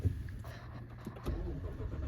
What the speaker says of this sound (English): next step is we're going to start the car